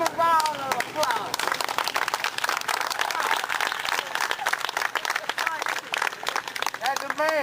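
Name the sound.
crowd applause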